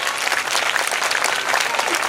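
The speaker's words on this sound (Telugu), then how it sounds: "Give them a round of applause, everyone." An audience at a school event claps together, producing dense, continuous, close-up applause that stays loud throughout.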